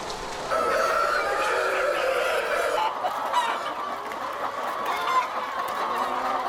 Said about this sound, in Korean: 한 마리가 울기 시작하면 나머지 닭들도 울어댈 정도로 예민하기도 하다